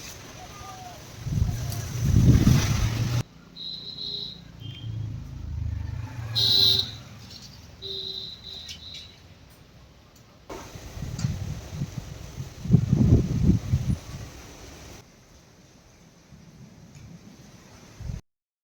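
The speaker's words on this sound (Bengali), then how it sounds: "আর খুব জোরে জোরে হাওয়া দিচ্ছে" Strong gusty wind blowing outdoors ahead of rain, rising in loud rumbling buffets with quieter stretches between, while a person talks and a bird calls faintly.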